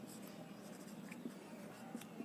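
Chalk or pen writing out a Class 10 statistics answer in a Hindi-medium lesson, a soft continuous scratching with faint taps, quiet and steady with no talk over it.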